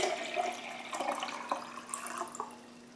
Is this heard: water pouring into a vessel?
yes